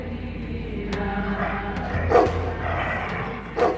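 Dogs barking during a protest confronted by police, a few sharp barks spaced apart, heard somewhat distant over a steady background noise.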